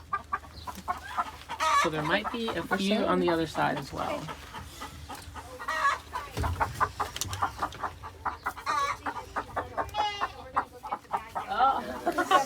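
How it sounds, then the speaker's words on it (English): Chickens cluck and squawk close by in a busy Lancaster farmyard, with people talking over them throughout. "How old are these chickens?"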